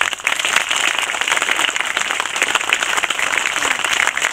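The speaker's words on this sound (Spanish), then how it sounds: "Yo pido un aplauso" Crowd applause for a kindergarten teacher at an outdoor public works ceremony, dense steady clapping from many hands, fairly loud and close, with no talking over it.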